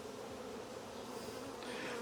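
Honey bees buzzing steadily and close during a spring hive inspection of a strong colony, a dense continuous hum that swells slightly toward the end, with no talking.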